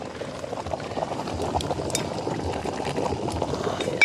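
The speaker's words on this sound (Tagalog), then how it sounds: "Kumukulo na po. kulong-kulo na mga kabayan." A pot of water boiling hard over a strong fire, a dense continuous bubbling and churning that holds steady and close for several seconds, with a faint clink near the end.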